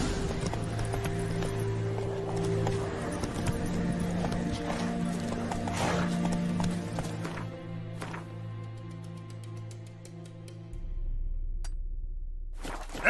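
Hooves of the horse Roach clip-clop at a gallop in The Witcher 3, a steady drumming rhythm close by under a dense game soundtrack and ambience, with a brief whinny possible and no talk.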